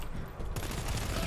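Rapid gunfire in the video game GTFO, a dense burst of shots that grows louder and more continuous partway through the short stretch.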